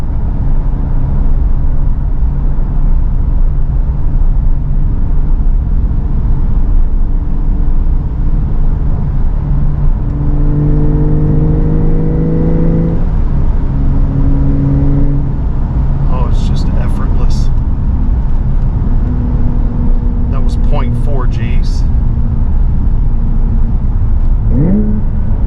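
A 2023 Porsche 911 Targa 4 GTS with manual transmission drives through a curve, its engine droning steadily with rising revs and wind noise, while someone talks over it.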